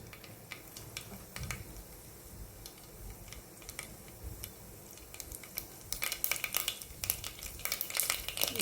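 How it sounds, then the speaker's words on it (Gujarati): Mustard seeds hit hot oil in a pan for a bottle gourd dish, giving a continuous close sizzle with scattered sharp pops and crackles that grow busier and louder toward the end. "હવે એમાં એડ કરીશું રાઈ."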